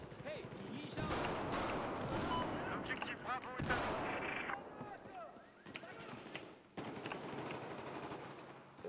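Bursts of close, loud gunfire and explosions from a Battlefield 4 multiplayer match, with repeated volleys and sharp reports across the span and a player's voice talking over the battle.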